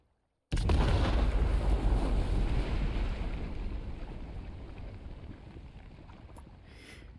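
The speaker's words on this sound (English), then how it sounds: "And boom goes the dynamite." Dynamite explodes in Death Stranding, starting with a sudden loud blast after a brief silence, then a long, roaring rumble that slowly fades over several seconds.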